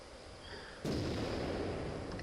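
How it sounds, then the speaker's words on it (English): A tank cannon in World of Tanks fires a single heavy, booming shot with a sharp onset, followed by a sustained low rumble and battle noise; no talking. "So, 2 shots fired."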